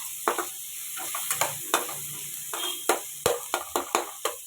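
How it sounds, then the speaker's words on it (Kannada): Tomatoes and onions frying in a pan, with a soft steady sizzle under a series of sharp scraping stirs and taps of a spoon, close and fairly quiet. "ಈಗ ಟೊಮೆಟೊ ಹಾಕ್ಕೊಂಡು ಫ್ರೈ ಮಾಡ್ಕೊತಾ ಇದ್ದೀನಿ"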